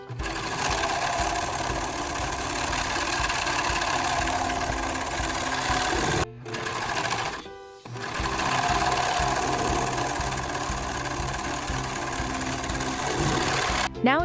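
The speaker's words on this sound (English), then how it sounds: "Finish the raw top edges on both pieces using a serger or a zigzag stitch to prevent" A serger or sewing machine zigzag-stitches the raw top edges of fabric pieces for a reversible over-the-collar dog bandana: a steady, close motor whir with a short break partway through before it resumes.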